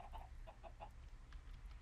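Chickens clucking in the Minecraft video game, a few short repeated clucks in the first second, moderately near over a low steady background hum, with no talk.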